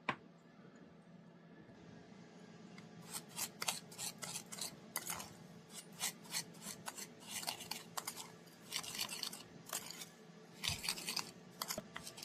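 Sugar, molasses and a little butter being mixed by hand into homemade brown sugar: repeated scraping, rasping strokes of a utensil against a bowl, close and fairly quiet, in uneven bursts.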